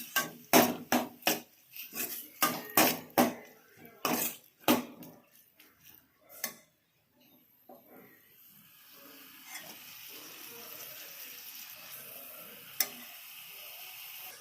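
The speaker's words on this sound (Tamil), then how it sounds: "இதை கொஞ்சம் மீடியம் ஃப்ளேமில் வச்சு கொஞ்ச நேரம் இதை நல்லா வதக்குவோம்" Chopped tomatoes sautéing in a pan over a medium flame: a run of quick, sharp spatula knocks and scrapes for about six seconds, then a quieter, steady sizzle with a single tap near the end.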